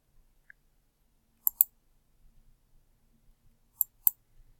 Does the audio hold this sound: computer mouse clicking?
yes